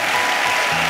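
A church congregation applauds, making a dense, loud wash of clapping that lasts under a second.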